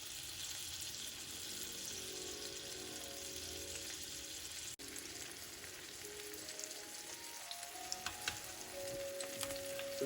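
Cabbage rolls saute in a pan with marinara, making a soft, continuous sizzle and crackle. Faint spattering and clinks occur in the background.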